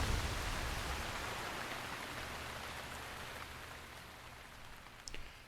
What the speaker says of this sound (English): The rains have stopped.